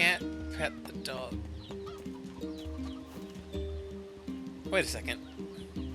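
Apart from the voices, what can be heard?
rooster clucking in NieR Replicant video game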